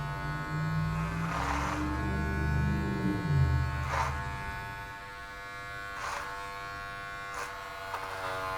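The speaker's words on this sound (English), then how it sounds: "I'm just gonna clipper over comb this area just to make my life a little bit easier" Electric hair clippers buzz steadily in a clipper-over-comb haircut on a textured crop, the close, continuous hum broken by brief bursts as the blades pass through hair, with no talking.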